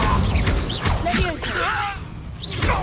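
Incendio fire spell cast in the Hogwarts Legacy video game: a rushing burst with whooshing, crackling sweeps under game music and effects, with a voice calling the spell.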